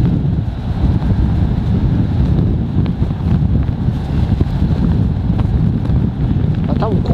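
Strong sea wind buffets the microphone in a continuous, loud roar with dense low rumble and scattered gusts, while a voice talks faintly underneath.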